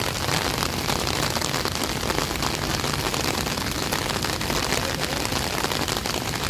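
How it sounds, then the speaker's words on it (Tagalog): Rain pours steadily at the open-air Pasig River Esplanade, a dense, loud hiss of drops hitting surfaces with scattered close patters throughout and no voices. "Pag umuulan pa naman dito sa Pasig River Esplanade"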